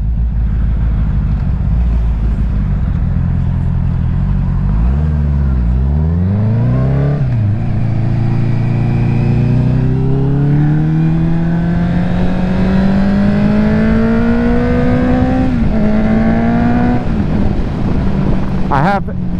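A 2021 Honda CB650R motorcycle with an aftermarket Black Widow exhaust revs loudly up and down, pitch sweeping from a low dip to a rising, strained drone, with rough exhaust and wind noise throughout.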